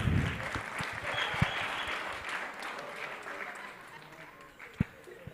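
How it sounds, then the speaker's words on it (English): Audience applause at a youth conference in the UK, a steady broad wash of many hands clapping that slowly fades, with a couple of sharp louder claps near the end. "Please clap for me."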